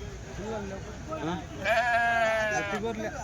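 A sheep gives a loud, wavering bleat close by at a weekly sheep and goat market in Kadiri, while people talk in the background and other animals call faintly.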